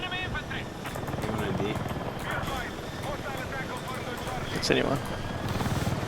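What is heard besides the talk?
helicopter in video game Battlefield 6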